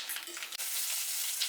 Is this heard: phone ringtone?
no